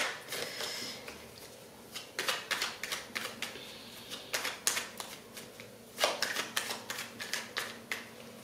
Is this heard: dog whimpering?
no